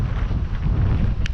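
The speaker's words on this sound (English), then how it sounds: "It's very windy, so we might not get paddling at all" Loud, blustery wind at Loch Laidon buffeting the microphone in a continuous low rumble, with no voices.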